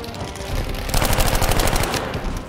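Suomi KP/-31 submachine gun in Battlefield 5 on the Devastation map, rapid automatic bursts starting about a second in and rattling on loudly and steadily, close up over a low rumbling battle backdrop.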